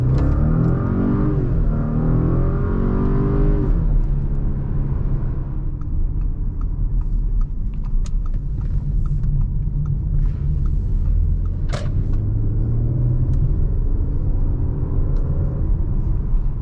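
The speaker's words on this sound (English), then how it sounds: "I'm gonna go ahead and press the gas." An Audi A7 engine heard from inside the car as the throttle is pressed, with a rising rev followed by a steady, loud low rumble and road noise while the car accelerates.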